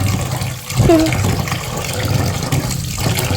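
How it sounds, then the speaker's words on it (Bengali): Hot water runs from a kitchen tap as a steady, moderately loud wash of flowing water that continues throughout, with a brief splash or clatter near the start. "গরম গরম জল বেরোচ্ছে।"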